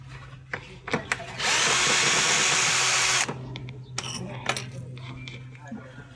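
A power screwdriver whirs steadily for about two seconds while backing screws out of a washing machine cover. Metallic clicks and handling knocks come before and after the burst over a low hum.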